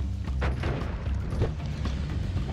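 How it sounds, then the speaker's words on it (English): Quantum bombs in the video game Noita go off as a dense cluster of muffled booms and rumbling blasts, repeated irregularly over a constant low roar, with no speech. "Quantum bombs."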